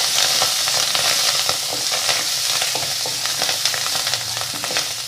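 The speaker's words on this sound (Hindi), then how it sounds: "इसको थोड़ा सा भुनाई कर लेंगे।" Mushrooms and chopped garlic sauté in a pan with a steady, close sizzle broken by frequent stirring scrapes throughout, with no voices.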